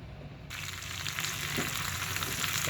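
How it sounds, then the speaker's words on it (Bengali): Pieces of pre-fried chicken tipped into a pot with potatoes for a home-style Bengali chicken roast set off a loud, steady sizzle that swells after the first half second and keeps going close up, with no voices. "এখন আমি ভেজে রাখা চিকেনগুলো দিয়ে দিলাম"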